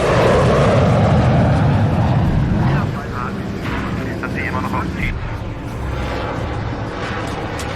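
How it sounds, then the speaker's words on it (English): A German jet plane from World War II passing overhead, with a loud, broad roar for about three seconds that then falls to a quieter rumble while voices speak. "It's a goddamn Nazi plane. They've got jets too?"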